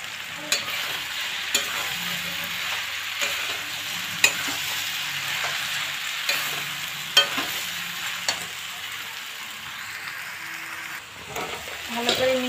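Okra sizzling steadily in hot spiced oil in a pan, with frequent scraping stirs of a spatula adding light clicks and knocks throughout, close and continuous with no talking.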